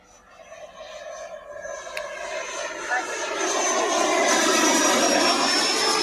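An old radio-controlled model jet flies in France, its engine whining steadily and swelling louder and nearer as it passes.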